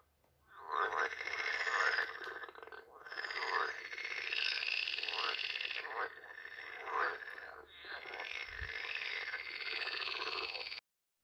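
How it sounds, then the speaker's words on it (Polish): Pool frog calling, a continuous loud churring chorus of rapid croaks that runs unbroken for about ten seconds before stopping abruptly. "No i ostatnia na liście, czyli żaba jeziorkowa."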